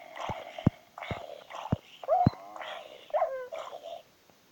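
Dog barks and whines in Minecraft Pocket Edition: short repeated yaps and whimpers with sharp clicks between them, clear and close, about five bursts before falling silent.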